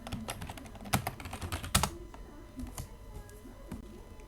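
Fingers tap out a short command on a computer keyboard, a quick patter of light clicks with a few firmer keystrokes, close by and fairly quiet, fading off into a low room hum.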